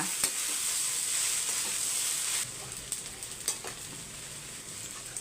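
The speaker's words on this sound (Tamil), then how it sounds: "நல்லா ரோஸ்ட் ஆக ரோஸ்ட் ஆக வெண்டைக்காய் வந்து நல்லா பிரிஞ்சு வந்துடும்" Okra roasts and sizzles in a pan on low heat, a steady frying hiss with scraping stirs and light clinks of the spatula, louder in the first half and then softer, with no talking.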